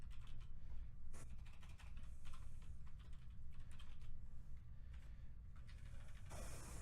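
HTML code is typed on a computer keyboard in a steady, quick run of close key clicks, with no talk.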